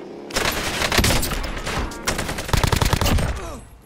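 Video game gunfire crackles in dense, rapid bursts, a loud, sustained fusillade of automatic shots that keeps going with a brief lull near the middle.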